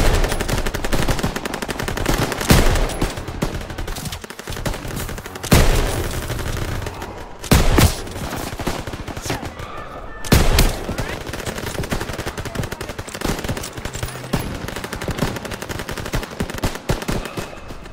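Call of Duty: WWII gameplay, dense sustained machine gun fire with overlapping bursts and heavier booming shots, loud and continuous for the whole stretch, with faint shouted voices in the background.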